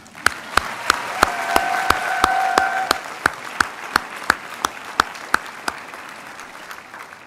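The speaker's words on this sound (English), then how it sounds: "Okay, now we can applause." Audience applause fills a Texas A&M University at Galveston commencement ceremony, with one nearby clapper striking sharp, evenly spaced claps over a softer crowd that swells and then thins out.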